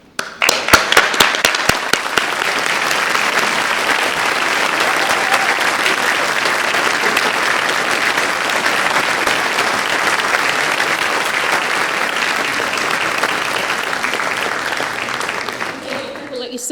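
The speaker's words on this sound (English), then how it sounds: "Massive round of applause for your family and friends for all the support and help they've given you through your university journey." A large winter university graduation audience applauds family and friends, with sustained, loud, even clapping from many hands that begins with a few sharp claps and continues steadily before tapering at the end.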